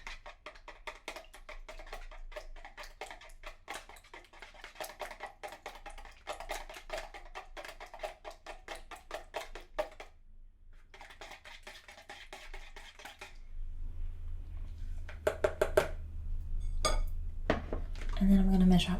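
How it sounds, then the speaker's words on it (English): Rapid metallic clinks of a whisk beating ingredients in a bowl for Snoopy cupcake batter, steady bursts with brief pauses, then louder clatter and a hum near the end. "I'm going to whisk these up just a little bit first"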